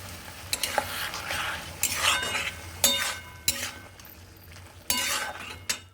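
A spoon stirs mixed winter vegetable curry coated in mustard-poppy paste in a pan, scraping and clinking against the metal while the food sizzles steadily underneath, close and fairly loud.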